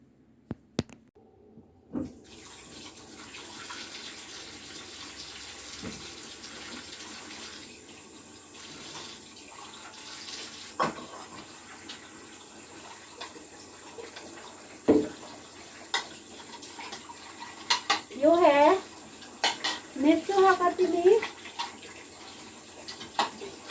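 Dishes washed at a kitchen sink in a home in Japan, with a low steady stream of running tap water and scattered clinks and clatter of crockery, plus brief faint vocal sounds near the end.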